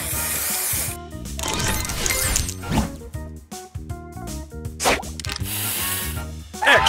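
A Match Masters spray booster effect plays as a bright hissing spray burst, then choppy clinks and chimes of game effects, with another hissing spray swell near the end.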